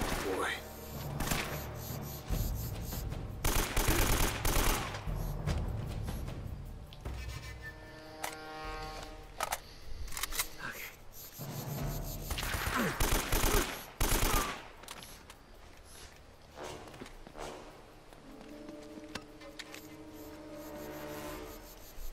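Gunfire rings out in the video game Uncharted: Drake's Fortune, with bursts of rapid shots and scattered single cracks amid game noise, while a player talks over much of it.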